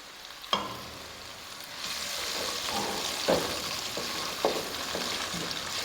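Onions frying in oil for a Tauri Gosht dish, with a steady crackling sizzle running throughout and a few sharp clacks of a spoon against the pan, no talking.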